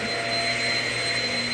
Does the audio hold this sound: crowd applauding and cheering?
no